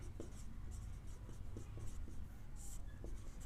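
Chalk or marker scratches across a classroom board while a geometry proof on a right triangle is written, a run of short scraping strokes and taps over a low hum, with faint speech in the background.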